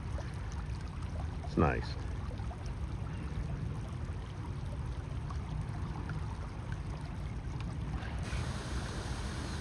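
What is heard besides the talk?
water flowing in a man-made stream in a park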